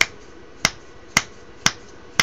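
Finger snaps picked up by a microphone wired to an ESP32 board, five sharp isolated clicks at a steady rhythm about half a second apart, fairly close, over a low background hiss.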